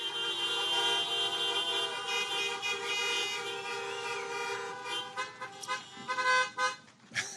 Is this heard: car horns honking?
yes